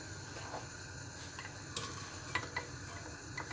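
Faint, quiet sizzling with occasional small ticks and pops as oil starts to heat in a pot on the stove.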